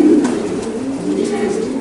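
Racing pigeons in a one-loft race loft coo steadily, a dense, low, throaty murmur from many birds close at hand that carries on without a break.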